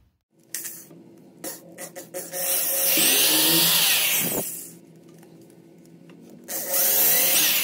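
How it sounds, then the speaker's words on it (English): A power drill with a bit bores a hole while a network mount goes up on a wall at home. It starts with short clicks and taps, then a loud sustained grinding whir rises and sags into a steadier hum before surging again. "I'll go ahead and make another hole over it with the correct size drill bit."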